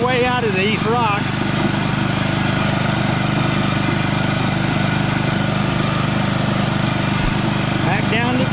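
Off-road motorcycle revving steadily in third gear while climbing over rocks in a mango orchard, a continuous loud engine drone with a brief rising rev near the start and another near the end.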